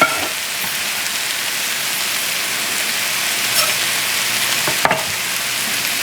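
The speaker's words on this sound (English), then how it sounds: "we're gonna cook them all together for a little while" Green and mixed colored peppers frying with garlic in a hot pan give a loud, dense, steady sizzle like heavy rain, with a couple of faint utensil knocks near the end and no voices.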